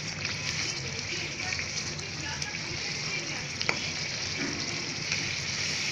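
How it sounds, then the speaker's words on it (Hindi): Ghari, a sweet cucumber puri, fries in hot oil over a medium gas flame, giving a steady, close, continuous sizzle with faint crackles throughout. "इसी तरह से घारी हमारी फ्राई हो गई।"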